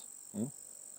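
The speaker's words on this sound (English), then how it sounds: "the crickets are out" Crickets chirp outdoors at night as a steady high-pitched trill running faintly throughout, with a brief low voice-like murmur rising in the middle.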